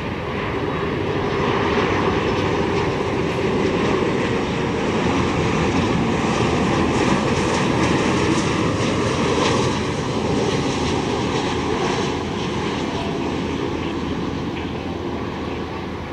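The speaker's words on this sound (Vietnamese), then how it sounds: "Bây giờ chiếc máy bay hạ cánh xuống đường băng 25 phải." Vietjet Air Airbus A330-300 landing on runway 25R, a steady, loud, broadband engine roar with a sustained rumble that holds evenly across the whole stretch, with no talk over it.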